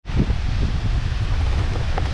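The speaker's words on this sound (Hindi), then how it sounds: "अगर आपको दिख रहा होगा तो वो है झरना" Siddhkhol waterfall at Kasdol, Baloda Bazar, a loud, steady rushing roar of falling water that fills the whole stretch without pause, with no voices.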